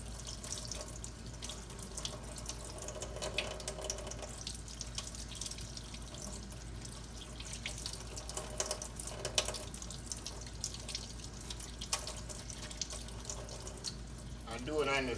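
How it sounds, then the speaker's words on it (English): Tap water runs steadily into a kitchen sink while hard-boiled eggs are peeled under it for deviled eggs, a continuous close hiss with faint handling noises and intermittent talk over it. "I do it on the sink as the water is running, and that helps the peeling process."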